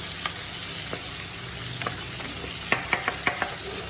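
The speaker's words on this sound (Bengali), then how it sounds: "এখন আমি যে পটেটোগুলো কেটে রেখেছি ওগুলোও আপনি দিয়ে দিচ্ছি, ওগুলো একটু ভুনে নিচ্ছে মশলার সাথে।" Cut potatoes frying with spices in a pan for chicken curry, a steady sizzling hiss close by, broken by scattered sharp clicks and taps from stirring that grow more frequent toward the end.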